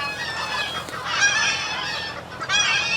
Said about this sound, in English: and I have my little roosters